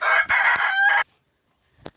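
A Master Grey rooster crows loudly and close by in one long, strained call lasting about a second, followed by near silence and a faint rustle near the end.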